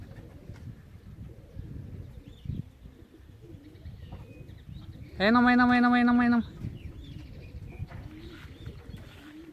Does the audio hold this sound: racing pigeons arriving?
yes